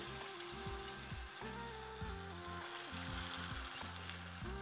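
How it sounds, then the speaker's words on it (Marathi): A wheat flour snack fries in hot oil until it turns brown, giving a steady, soft sizzle and crackle that carries on evenly throughout at a gentle, close level, with no talking. "फ्राय करून घ्यायच्या, मस्त ब्राऊन कलर येईपर्यंत त्यांना"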